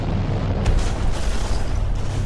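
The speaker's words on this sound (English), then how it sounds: "a powerful explosion shook tranquil Pasadena, California" A powerful explosion booms in a deep, sustained rumble with a sharp burst near the start, loud and dense throughout with no voices.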